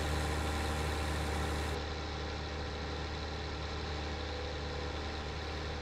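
A tractor engine idles in Farming Simulator 19, a steady mid-to-low rumble running throughout with no talk; the upper hiss drops away a couple of seconds in while the engine drone continues.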